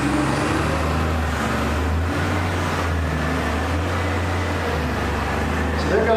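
A fully loaded Caterpillar 777 haul truck rolls past with a steady, loud low-pitched engine drone, holding constant throughout with broad mechanical rumble and no clear pass-by swell.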